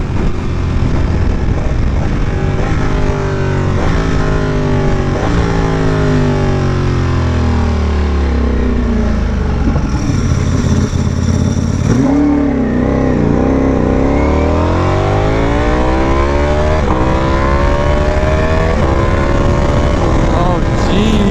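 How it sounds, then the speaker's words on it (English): Loud Aprilia RSV4 Factory sport motorcycle engine roaring and revving close by, pitch sweeping up and down through repeated accelerations, with faint voices underneath. "This bike is so loud. You guys gotta hear it in person to understand."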